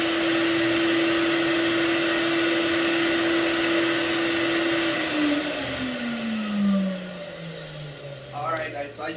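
A carpet cleaning machine shuts off, its steady loud whine holding and then sliding down in pitch as the motor winds down, followed by a person starting to speak.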